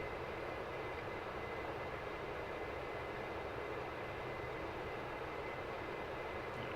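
Dash 8 Q400 turboprop engines idling in the Prepar3D flight simulator, a faint, steady hum and airy rush holding constant throughout with no talk.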